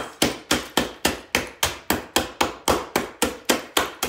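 Steady, evenly spaced hammer blows, about four per second, striking hard candy canes up close with sharp cracking impacts and no talking.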